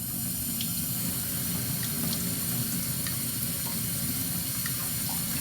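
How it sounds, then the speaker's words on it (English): Water runs steadily onto a sharpening stone while a Charnley straight razor is honed, a constant close hiss of flowing water from a tap with faint occasional ticks and no talking. "Get a little more water on there."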